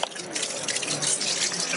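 Water from an ice bucket challenge in Sinaloa is poured onto a tree, making a steady, close splashing rush with no pause for about two seconds.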